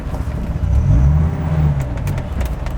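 A Dodge Viper drives slowly up and over an obstacle. A low engine rumble rises and then settles, close and moderately loud, with faint scraping or clicking sounds near the end.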